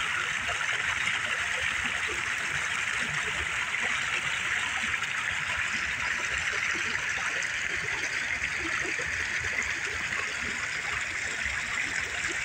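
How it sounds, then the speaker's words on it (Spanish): Cold mountain stream running steadily on a hiking trail, a continuous broadband rush and trickle of flowing water heard close and fairly loud, with no break for the whole stretch. "Miren cuánta agua lleva, pero está frío"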